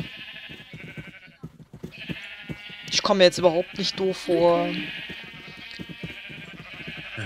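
Sheep bleating in the Minecraft video game, several wavering bleats clustered mid-clip, loud and close, with German speech running before, through and after them.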